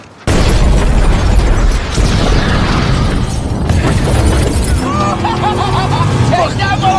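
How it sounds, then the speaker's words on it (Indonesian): A loud burst opens an explosion in a tense film scene, followed by a sustained roar of rumble and debris, with faint ringing tones and scattered voices in the chaos afterward. "Kemudian di tengah situasi kacau pasca sebuah ledakan, Dani"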